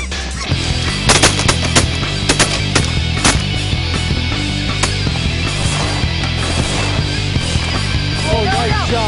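Shotgun blasts ring out during a goose hunt, several sharp loud reports close by over a steady background of honking geese, with people calling out at the end.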